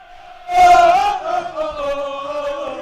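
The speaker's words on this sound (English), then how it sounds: "We got a very nice DRS student crowd here." A student crowd at a varsity high school basketball game cheers. A sudden loud burst of voiced shouting rises and then settles into sustained chanting that carries on to the end.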